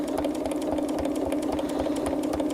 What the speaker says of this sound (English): now you can see that I'm quilting very slowly. Why? Simply because I'm drawing with the sewing machine.